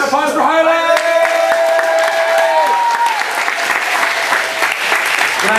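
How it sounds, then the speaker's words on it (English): Sustained audience applause fills the space, thick continuous clapping with a crowd murmur beneath it and some tonal music or sound ringing over the opening seconds. "Round of applause for Highland."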